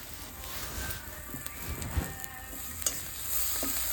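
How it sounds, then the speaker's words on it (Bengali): Bhetki fish masala stirred in a pan of hot oil, continuous soft sizzling with a few scraping stirs and light knocks, close and unaccompanied by speech. "নেড়ে চেড়ে নিচ্ছি। একটু তেল দিয়ে দিলাম।"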